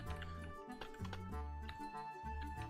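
Quiet computer keyboard typing at a desk, soft irregular key clicks sitting under a constant background hum with faint tonal music.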